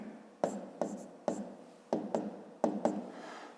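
Numbers are written by hand on paper for a fifth-grade maths exercise, with a series of distinct quiet pen strokes and scratches in an uneven rhythm, close and soft with no voice.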